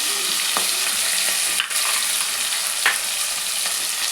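Spices and fenugreek leaves sizzle steadily in hot oil for Telangana-style pappu charu, with a few soft scrapes of a spoon stirring through the pan.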